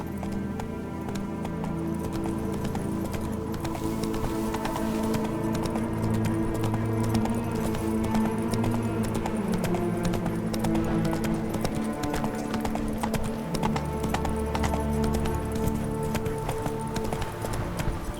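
A horse gallops steadily in The Witcher 3, its hooves clip-clopping in a constant rhythm with faint tack jingling, loud and close throughout with no talk over it.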